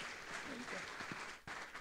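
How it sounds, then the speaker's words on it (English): Brief applause from an audience at a government blockchain regulation summit, a soft, fairly distant patter of clapping with a faint voice underneath. "Round of applause, please"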